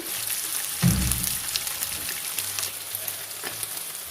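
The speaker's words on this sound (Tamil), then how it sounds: "எல்லா மீனும் ஃப்ரை பண்ணி எடுத்தாச்சு" Fish pieces frying in hot oil in a pan while making Tamil fish curry, giving a steady close sizzle and crackle with a brief louder clatter near the start, no talking.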